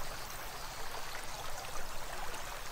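Water pouring in the video game Shin Chan: Meine Sommerferien mit dem Professor, a steady faint rushing stream that runs unbroken from start to finish, no voices.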